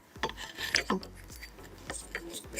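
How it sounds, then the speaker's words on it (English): Counterweight arm being fitted to a telescope mount with M5 screws: quiet rasping, rubbing and small metallic clicks come close by in short irregular bursts, with no speech. "we'll need to add the counterweight arm with M5 screws"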